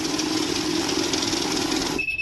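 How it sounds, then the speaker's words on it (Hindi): A shop cash counting machine whirs loudly and steadily, then a thin, continuous electronic beep starts near the end as it detects a fake note. "तो जहां भी फेक नोट आएगा मशीन स्टॉप हो जाएगी, बीप देने लगेगी।"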